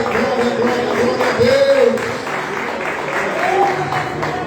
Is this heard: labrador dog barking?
no